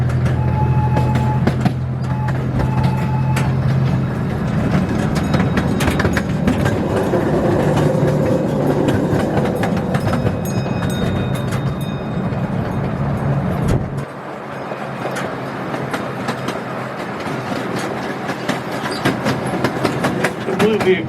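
A miniature train ride at the National Museum of Transportation in St. Louis, with a steady rumble and rattle of the rolling cars heard close, a low hum in the first half, then a lighter clattering ride.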